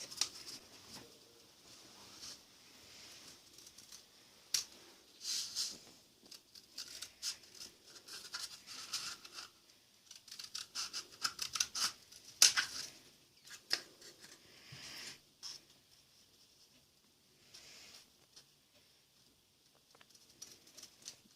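Scissors snip through a cardboard toilet paper roll in a quiet room, giving faint, irregular crisp cuts and rustles that repeat steadily over about twenty seconds.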